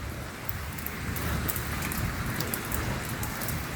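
Steady rain falling on surfaces outdoors, a dense continuous hiss with scattered drop patter throughout, fairly faint and unbroken, with no voices.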